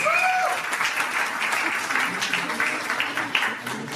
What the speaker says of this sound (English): Please put your hands together and welcome Mrs. Shilpa Shetty from Ravikas.